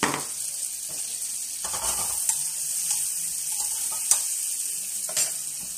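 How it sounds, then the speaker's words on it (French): Steady sizzling of cherry tomatoes sautéing in a saucepan, with occasional stirring clinks and scrapes, close and moderately loud, no voices. "On va mettre la casserole à chauffer pour commencer à faire sauter les petites tomates cerises."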